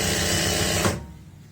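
Sewing machine stitching a pair of pants, a fast buzzing mechanical whir running loud and close for most of a second, then stopping abruptly into quiet.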